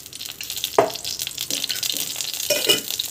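Oil going into a pan while cooking Kadhaba sambar, heard as a sizzling, frying hiss with a few stirring scrapes and light clinks, close and continuous without talk.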